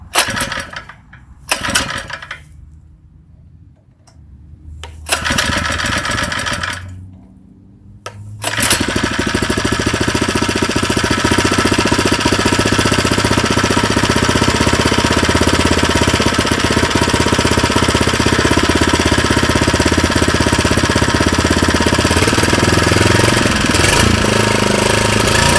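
A Predator 79cc small engine takes a few sputtering pull-start attempts, then catches and runs at a steady, loud, rough chug throughout the break-in, close by and with no talk.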